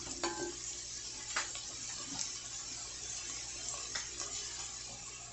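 Steak and peppers frying in a pan, a soft steady sizzle with occasional stirring clicks and scrapes, close and fairly quiet.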